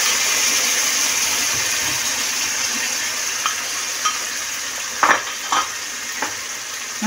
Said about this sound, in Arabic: انا نخليها تشحر شويه البصله